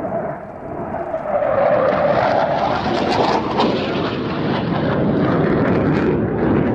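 A jet bomber interceptor with a double delta wing roars past at an air festival, a loud broad jet rush that swells and stays strong throughout, with a faint voice underneath.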